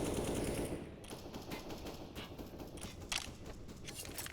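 Pistol gunfire in a CS:GO match: a rapid, dense burst of sharp shots at moderate volume, with a few scattered later reports over background game noise.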